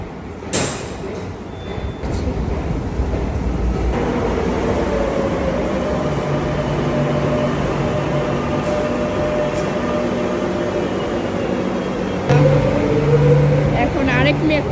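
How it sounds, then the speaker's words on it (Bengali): Steady rumble of a metro train ride, a continuous near hum of the carriage in motion with a brief rise in noise toward the end. "এখন মেট্রো করে চলে যাব।"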